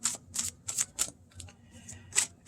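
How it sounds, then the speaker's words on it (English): Borderless tarot deck being shuffled by hand, a run of crisp riffling bursts with short pauses between, close and fairly quiet, no talking. "I'll shuffle it up a little bit here."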